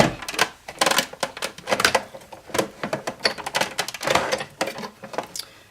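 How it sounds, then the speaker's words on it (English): Die cutting machine cranked by hand to pass a paper stack through a graphic frame die, with dense uneven clicking and ratcheting at close range, coming in irregular bursts. "Make a stack, just like before, and we're going to crank it through."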